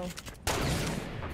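A single sharp sniper rifle shot in Fortnite cracks out partway through, followed by a sustained burst of game noise, with faint voices beforehand.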